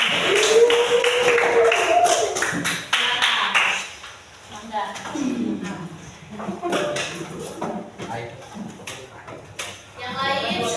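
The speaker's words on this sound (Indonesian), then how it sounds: "kita berikan tepuk tangan terlebih dahulu" A classroom group claps for a student presentation at a teacher-training exam, a burst of hand claps at first, then scattered taps and shuffling with voices talking.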